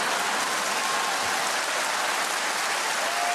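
Audience applause at a live stand-up comedy show, a steady dense wash of clapping filling the whole stretch, loud and continuous with no talk over it.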